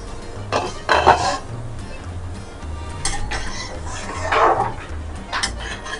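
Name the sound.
lid of a cooking pot being opened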